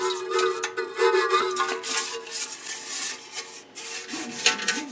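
A brush scrubs the inside of a stainless steel water distiller tank after a week of vinegar soaking, giving repeated close rasping strokes in an uneven back-and-forth rhythm.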